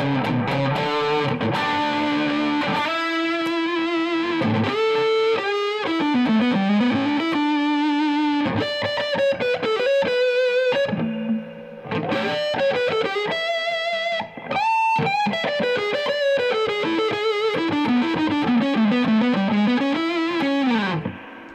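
Electric guitar played through a Peavey Valve King 112 tube amp with the gain turned fully up, giving heavily distorted, saturated notes and melodic lead runs with brief pauses, loud and continuous with no talking.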